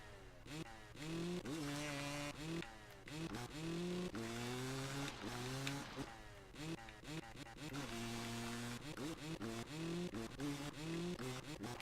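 A two-stroke dirt bike engine in the racing game MX vs ATV Reflex, loud and high-revving, climbing through gear after gear in rapid repeated rising whines with brief dips between shifts, continuous throughout.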